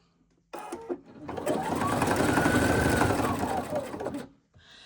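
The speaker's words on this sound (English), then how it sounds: "I'm going to line this up under my presser foot, use a 1/4 of an inch seam allowance, and then I'm just going to sew along that seam." Sewing machine stitching a quarter-inch seam through fabric, a close, steady motor whir with rapid needle clatter that starts abruptly, runs for about three and a half seconds, then stops.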